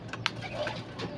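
Pigeons coo softly and intermittently at close range, with a faint, sharper click partway through.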